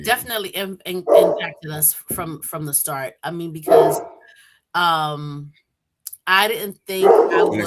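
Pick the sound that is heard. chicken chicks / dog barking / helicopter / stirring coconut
dog barking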